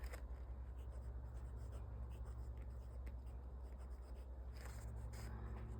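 Steady nib-on-paper scratching from a Pilot Vanishing Point fountain pen with a fine nib, close and continuous for several seconds over a low background hum, with no talk.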